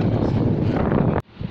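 Heavy wind buffeting the microphone in the Elan Valley, Wales, a loud continuous low rumble that cuts off abruptly near the end, leaving quieter background.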